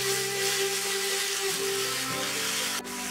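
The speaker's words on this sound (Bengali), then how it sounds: "হালকা একটু নাড়াচাড়া করে নেব 1 মিনিট।" Water spinach fries in hot mustard oil with onion in a wok while being stirred, giving a continuous close sizzle that changes slightly near the end.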